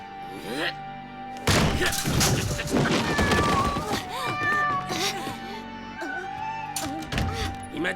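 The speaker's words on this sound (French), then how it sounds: "c'est juste un chat." A cartoon cat meows and caterwauls in drawn-out, wavering yowls amid crashes and thumps, with voices talking over the commotion.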